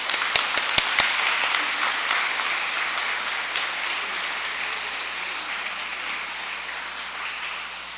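Audience applause welcoming a priest at an Advent lecture in a Catholic church, opening with a few sharp individual claps that swell into steady, moderately distant clapping which slowly tapers off.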